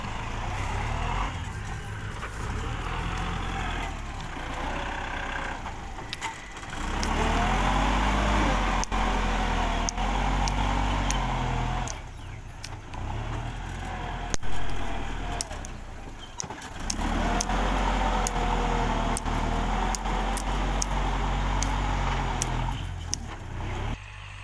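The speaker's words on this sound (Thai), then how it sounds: "ก็จะเป็นหน้าที่ของรถไถต่อไปละครับ" A tractor pushes soil at a slippery, wet driveway entrance, its diesel engine droning loudly and steadily with repeated surges and lulls as it works, with no talk over it.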